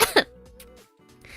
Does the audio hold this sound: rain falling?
no